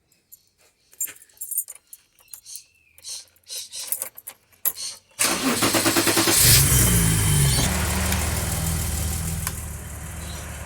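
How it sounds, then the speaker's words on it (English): A BMW E30 with an M30 engine idles while warming up, preceded by scattered light clinks and rattles for about five seconds before the steady, close engine idle takes over and holds to the end. "I'll let the car warm up to temperature and see if this second-hand switch still works"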